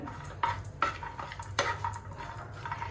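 Chopped almonds dry-roast in a pan for semolina laddus, with faint scraping stirs and light clinks of a spoon against the pan, close and quiet, no talking.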